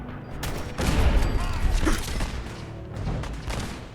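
Gunfire from a turret and enemy gunner in Fallout 4, a dense volley of rapid shots and booms, loud and close, over steady game ambience.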